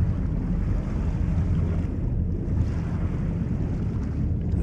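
Muffled underwater rushing and low rumbling as a character swims through water in the horror video game Agony, a steady dark wash of low noise without talking.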